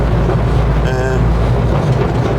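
A classic Morris Minor van drives along with a loud, steady low engine drone and cabin rumble, mixed with wind buffeting, heard from inside the vehicle.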